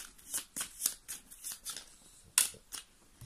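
Tarot cards are shuffled and drawn by hand, a quick series of crisp riffling snaps and slides close by, with one sharper flick near the end and no voice.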